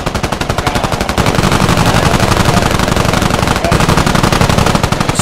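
Rapid automatic gunfire from the video game Squad, dense and continuous bursts of machine-gun fire filling the whole stretch, loud and close with overlapping shots.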